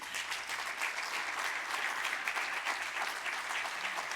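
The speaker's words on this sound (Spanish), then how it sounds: "recibe este aplauso desde Madrid" A conference audience in Madrid claps in a steady, even round of applause, fairly soft and continuous throughout, with no voices over it.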